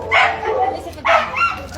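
A small dog, lame and unable to walk, gives two short yelping barks about a second apart, close and fairly loud.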